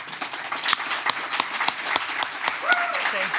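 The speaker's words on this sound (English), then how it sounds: "So big round of applause for our president." An audience applauds a university president at a fall speaker series event, a dense burst of many hands clapping that goes on without a break while voices call out over it.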